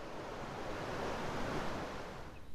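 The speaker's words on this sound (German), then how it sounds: "der Respekt vor der Nordsee, dem blanken Hans, der an der Küste zerrt und rüttelt" North Sea surf breaking on the Wadden Sea coast, a dense, continuous roar of waves mixed with wind rushing over the microphone, steady and loud with no voices.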